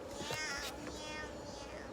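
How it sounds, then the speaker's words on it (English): A cat meows a few times close by, drawn-out and plaintive, against a quiet room. "No more meowing."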